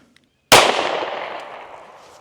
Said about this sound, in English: Turn, present the gun, and shoot the gun, okay?